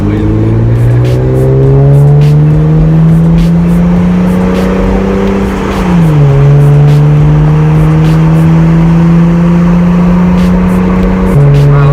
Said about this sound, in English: I'm gonna put the windows down for you guys, and we're gonna get some downshifts.